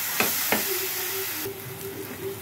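Ginger garlic paste hits a hot pan with two quick knocks, then a steady broadband sizzle and hiss holds throughout, fairly close and even in level.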